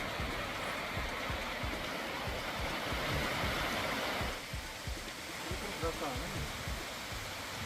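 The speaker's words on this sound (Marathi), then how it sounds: "जिल्ह्यातील भंडारदरा धरणातून मोठ्या प्रमाणात पाण्याची गळती सुरू आहे" Water leaking from the Bhandardara dam makes a continuous rushing roar, steady and dense, easing slightly partway through.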